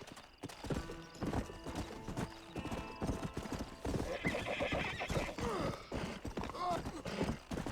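Horses gallop and whinny in Red Dead Redemption 2, rapid clip-clop hoofbeats on the ground with sharp neighs rising over them, loud and busy throughout the stretch with no speech.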